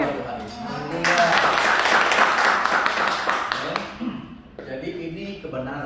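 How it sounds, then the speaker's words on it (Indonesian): A church congregation applauds at a worship service, a sustained wash of clapping that swells for about three seconds. Someone speaks over it before and after. "Tepuk tangan buat Tuhan Yesus"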